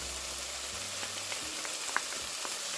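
Vegetables frying in a pan as garlic goes in, a steady close sizzle running throughout with a few soft clicks and scrapes of stirring.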